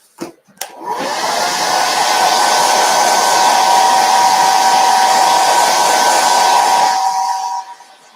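Hair dryer blowing steadily on a folded book page wood sign Christmas craft, a loud continuous whoosh with a faint whine that starts after a couple of clicks, runs about six seconds, then cuts off.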